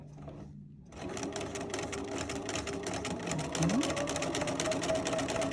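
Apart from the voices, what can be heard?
BERNINA sewing machine stitching with #55 leather roll foot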